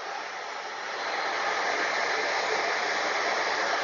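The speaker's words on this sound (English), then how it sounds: "He presses the trigger, it lowers the spindle." A Shaper Origin handheld CNC router's spindle runs in a workshop, a steady broadband whine that swells slightly after the first second and then holds loud and even throughout.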